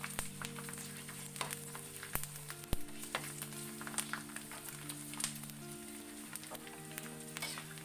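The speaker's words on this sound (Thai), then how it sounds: "เราจะทอด แคบหมูของเราให้ เปลี่ยนเป็นสีน้ำตาลอ่อนๆนะคะ" Pork rinds bubble and crackle in hot oil, with intermittent stirring clicks and scrapes against the pan, and the frying stays fairly soft and steady throughout with no talking.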